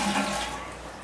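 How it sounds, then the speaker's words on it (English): A toilet flushes with the lever held down to drain the tank: a loud burst of rushing water that tapers off within a second, alone with no talk. "Flush this, keep the lever down. That'll get most of the water out of the tank."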